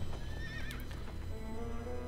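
A horse in the video game Shadow of the Colossus gives a loud, close whinny that rises and wavers, followed by a softer snort and a lower drawn-out neigh, over a continuous game background with no talking.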